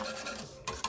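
Cooked rice being stirred for a coffee gel, a quick scraping and clinking of a utensil against the bowl, close and steady with a couple of sharper knocks near the end.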